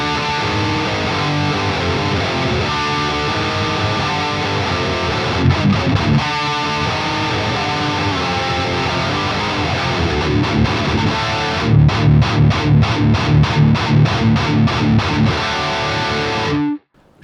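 An electric guitar plays through an amp set for crunchy early 5150-style distortion, a dense, loud, continuous chugging riff with rhythmic staccato stops near the end before it cuts off abruptly.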